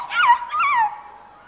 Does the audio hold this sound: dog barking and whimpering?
yes